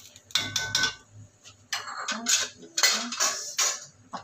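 A metal lid being placed over a pot of sinigang broth, with several close clinks and scraping rattles of metal on metal in short bursts.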